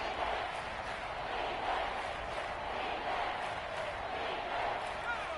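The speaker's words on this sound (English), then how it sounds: "the crowd getting into it as we come up on a big 3rd down" Stadium crowd at a college football game roaring continuously as a big third down approaches, a dense, sustained wall of cheering and shouting filling the whole stretch without pause.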